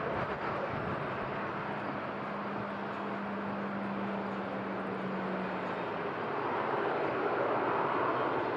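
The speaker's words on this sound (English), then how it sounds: "A330 on the approach" Airbus A330 airliner on approach to Madeira Island Airport in strong crosswind, a steady broadband engine roar with a sustained low whine, growing slightly louder toward the end, wind rushing throughout.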